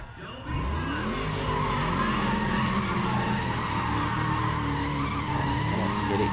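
A racing car in Need For Speed ProStreet squeals its tires and revs hard, the engine note climbing through gear changes against an Integra, loud and continuous after a short quiet start.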